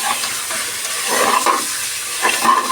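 Mutton with salt being stirred in a pan for a mutton and yam curry, a steady sizzling hiss with scraping stir strokes coming in a few bursts, close and moderately loud with no talk.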